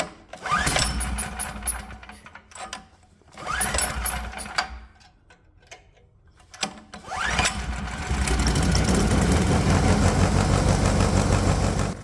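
A small engine with an adjustable carburetor on a test stand sputters in short bursts, cutting out between tries, then catches and runs steadily with a loud, rattling drone.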